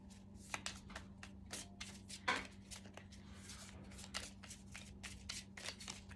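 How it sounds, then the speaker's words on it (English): A deck of oracle blessing cards is shuffled by hand in a quiet room, giving a steady run of soft riffling and snapping card sounds with one louder flutter midway through. "So I'll pull a blessing card now for Abby and Libby, please, in this reading"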